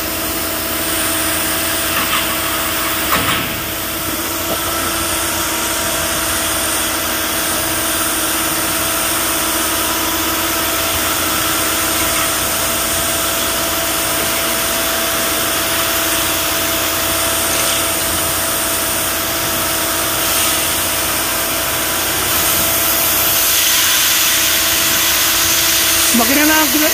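An aluminum frying pan and wok molding machine runs inside a hot factory, a steady mechanical hum with a constant tonal whine and broadband noise, briefly punctuated by a clank, with voices heard faintly.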